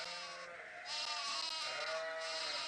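Sheep bleat in the medieval adventure game Arthur's Knights 2: The Secret of Merlin, with a few close, drawn-out, wavering calls that overlap one another and carry no talk.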